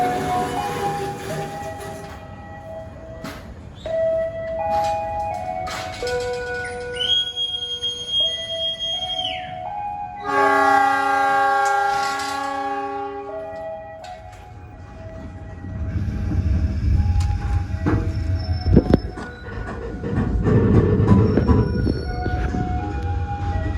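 The KA Malabar passenger train sits at Cipendei station with long squealing wheel and brake tones, ringing bells, hissing air and a low rumble that swells toward the end as the cars move.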